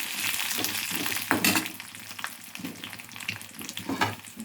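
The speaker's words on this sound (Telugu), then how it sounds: "సిమ్లో పెట్టి వేయించుకోవాలి" Dried red chillies fry on a low flame for tomato chutney, giving a steady close sizzle with a few sharper stirring scrapes and clinks throughout.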